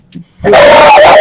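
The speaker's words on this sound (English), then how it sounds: "I'm sorry about the dog" A dog barks indoors, one loud, sudden bark right next to the microphone after a brief faint whimper, cutting off sharply.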